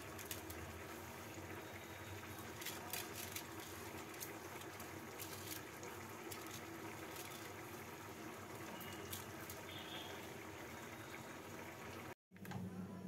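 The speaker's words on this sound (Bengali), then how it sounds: "এবার এই ভিজিয়ে রাখা চালটাকে একটা ছাঁকনির মধ্যে নিয়ে জল ঝরিয়ে নেব।" Water drains from soaked rice held in a kitchen sieve, making a faint, steady trickling and hissing wash that continues without a break.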